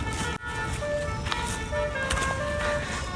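Faint, distant telolet bus horn playing short melodic tones that drift in over the ambient hum of a foggy campsite at Lembah Pasir Sumbul.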